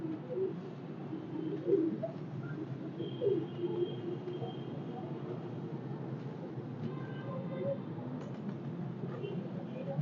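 A red-eyed cross-breed pigeon, held in a handler's hand, coos softly in a few low murmuring bursts over a steady rumbling background.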